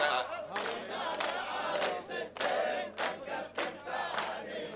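A wedding-night audience at an Arabic folk sahra chants a poetic response in unison, loud and crowd-filled, with rhythmic swells of massed voices rising and falling across several phrases.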